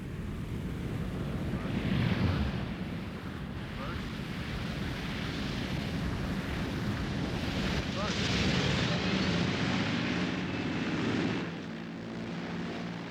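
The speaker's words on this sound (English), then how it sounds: "As the dangerously overloaded Caribou comes into land" A heavily overloaded Caribou transport aircraft comes in to land with failed flaps, a steady broad engine and wind roar holding throughout with no clear break.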